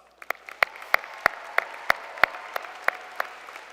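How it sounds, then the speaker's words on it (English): Graduates at a college commencement ceremony clap in slow, evenly spaced single claps, about ten sharp strikes over a soft background of room noise. "Graduates, please give yourselves a round of applause."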